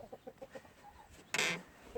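Jersey Giant chickens clucking in a straw-bedded winter coop, a quick run of close, soft clucks followed by a brief louder squawk.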